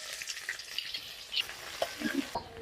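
Chopped onion frying in hot oil with garam masala and bay leaves in a wok, a soft continuous sizzle and crackle with scattered light stirring scrapes and pops, fairly faint and close, with no talk.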